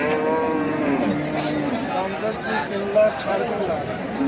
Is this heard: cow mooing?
yes